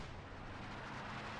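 Dense, continuous rumble of artillery fire in Company of Heroes 2, a match with an ISG infantry gun at work, the booms blurring into a steady roar with no single shot standing out.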